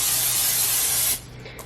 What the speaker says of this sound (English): So I'm just going to spray it with some olive oil spray